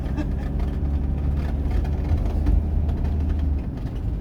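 A car cabin hums with a low, steady engine and road drone while driving through a small town in France, loud and continuous with faint rattles.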